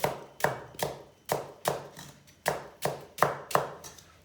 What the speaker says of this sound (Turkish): Önce pırasalarımızı bir doğrayalım.